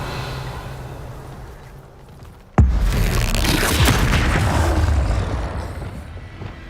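Casting the Revelio spell in Hogwarts Legacy sets off a sudden deep boom that rolls into a sustained rumbling, shimmering swell after a quiet ambient lead-in, with no voices.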